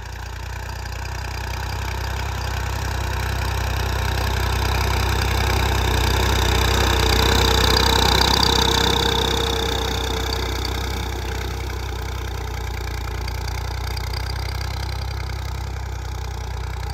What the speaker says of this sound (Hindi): तो ट्रैक्टर इस टाइम दूसरे दे हाई गेयर च चल रहा जी।